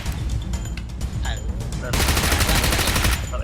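Gunfire in the mobile battle royale PUBG Mobile, with scattered shots early on giving way to a dense, sustained volley of rapid automatic fire, loud and close.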